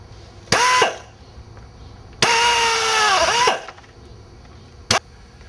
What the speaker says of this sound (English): we're going to go ahead and drill this right where we marked it